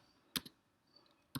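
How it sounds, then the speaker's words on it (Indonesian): Keystrokes on a computer keyboard while typing "data center": a quick pair of clicks followed by one more isolated click, crisp and close in an otherwise quiet room. "kita ketik data center"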